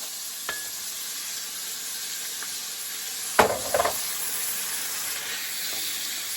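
Onions and crushed peppers fry in a pan with a steady close sizzle, broken by a brief burst of stirring and clatter in the middle and a few faint clicks.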